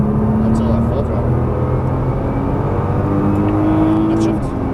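Nissan GT-R on a racetrack at full throttle, its engine droning loudly with a rising tone, heard from inside the car under a steady rush of road and wind noise.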